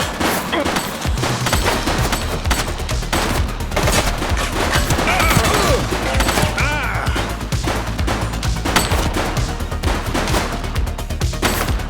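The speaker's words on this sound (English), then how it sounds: "She's shooting!" Heavy gunfire in the police video game The Precinct, dense continuous bursts of shots and crashes, loud and close throughout, with brief shouted voices mixed in.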